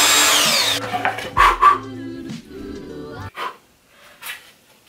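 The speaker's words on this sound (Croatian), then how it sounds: "Napravite rupu na stražnjoj strani. To je najnormalnije do sad, ako se ne varam. Trebam bušilicu." A power drill bores a hole through the back of a backpack, giving short whirring bursts with rough scraping and knocks between them, close and fairly loud, after a burst of broadband noise at the start.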